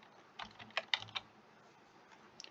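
Fingers tap a computer keyboard in a quick, uneven burst of soft clicks, close and quiet against a faint background hiss, with no one speaking.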